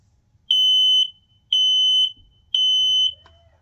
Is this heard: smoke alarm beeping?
yes